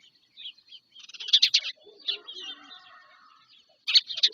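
Sparrows chirp near a stork nest in short bright bursts of tweets, sporadic and fairly close, with quieter calls between the louder clusters and no talking.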